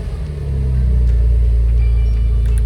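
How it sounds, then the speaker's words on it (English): A 2015-2021 Porsche Macan S with its 3.0L engine cranks and catches, then settles into a steady, deep rumbling idle close by. The bonnet is open, and nobody talks over it. "we're gonna wanna start up the car"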